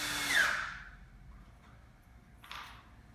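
A screwdriver drives a screw into a wood backer: a short, loud whirring burst at the start that quickly fades, then a quieter second burst near the end, with no talking.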